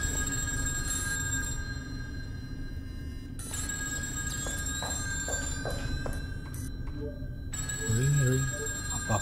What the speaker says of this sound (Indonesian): Oh, telepon nih.